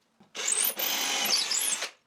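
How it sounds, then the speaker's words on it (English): Power drill boring holes into a wooden work table surface, with a short dip between two steady, close whirring passes as the bit cuts through the wood. "I finished drilling the work table surface."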